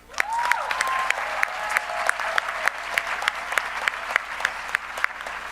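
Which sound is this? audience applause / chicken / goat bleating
audience applause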